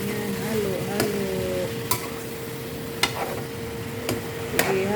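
Chicken curry being stirred in a pan, a steady sizzle with scraping strokes of a spoon and a few sharp clinks against the pan, close and continuous.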